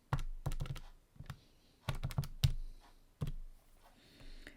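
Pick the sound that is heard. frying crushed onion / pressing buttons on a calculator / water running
pressing buttons on a calculator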